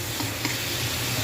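Dried fish (tuyo) sautés in a pan for a homemade garlic chicken dish, giving off a steady, dense sizzle that stays even throughout.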